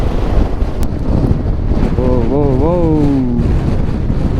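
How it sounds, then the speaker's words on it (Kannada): Strong wind buffets the microphone on a KTM Adventure motorcycle ride near Tabo Bridge in Spiti, a steady loud broadband rush with engine and road rumble, and a voice briefly rising over it. "ವಿಂಡ್ ಹೆವಿ ಇದೆ ಗಾಯ್ಸ್, ಗಾಡಿನೇ ತಳ್ತಾ ಇದೆ ಲೆಫ್ಟ್ ಸೈಡ್ಗೆ."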